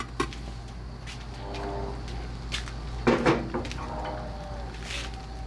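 A cast-iron Dutch oven lid is lifted off a pot of BBQ chicken cooking over charcoal outdoors, giving one close, sharp metallic clank and scrape midway, with a few lighter clicks around it over a steady low background rumble and no talking.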